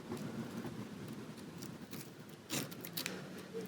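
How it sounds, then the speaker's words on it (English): A blade or razor shaves into the wooden body of an unfinished bass guitar kit, giving quiet, close scraping strokes with a few sharper bursts near the middle. "There we go, cutting into the wood."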